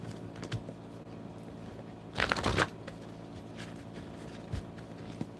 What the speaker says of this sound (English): Let me just shuffle a little bit.